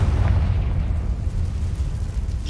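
A Confringo explosion spell going off in Hogwarts Legacy, a deep rumbling blast that stays heavy and sustained for a couple of seconds.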